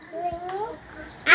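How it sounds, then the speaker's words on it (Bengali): A few chickens cluck nearby in a household yard, short soft calls followed by a sharper squawk at the end, with a person's voice faintly in the background. "আমাদের একটা মুরগি আছে।"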